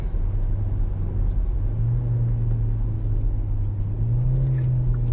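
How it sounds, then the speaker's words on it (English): A 2021 Hyundai Elantra SEL with a CVT rumbles from inside the cabin as its engine revs, the droning tone stepping up in pitch twice during simulated downshifts, steady and loud without talk. "And then you could fake downshift as well."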